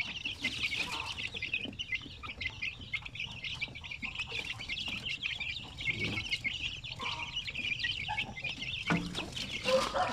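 Native chickens and chicks cluck and peep steadily during feeding, a busy flock chattering close by with overlapping calls and occasional louder clucks, no voices.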